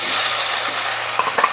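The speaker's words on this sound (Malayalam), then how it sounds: "സവോള ഇളക്കിക്കൊണ്ടിരിക്കുകയാണ്. സവോള ഒന്ന് മൂക്കട്ടെ." Onions being stirred and sautéed in a pan for Kerala-style chicken thoran, a steady close sizzle with a few scraping stirs near the end, no talk.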